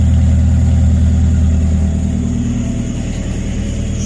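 A BMW E46 with a modified exhaust idles steadily nearby, a deep, even bass rumble that holds constant with no revving and no talk.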